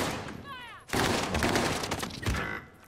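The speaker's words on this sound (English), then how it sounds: "I got the new SMG. It's fucking burst fire." A burst-fire SMG in a video game lets off rapid, loud clustered shots that start abruptly and keep crackling through the rest of the moment.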